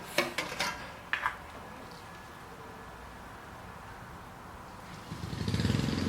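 A few metallic clinks up front while fueling a Ryobi 18-inch chainsaw, then a neighbor's lawn mower droning steadily in the background, swelling louder near the end.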